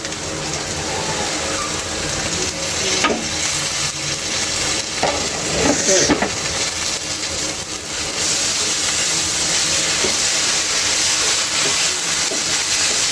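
Koi fish curry with mustard paste cooking in a pan, a continuous sizzle and hiss with scraping and clinking of a spatula being stirred through it near the middle, no voices.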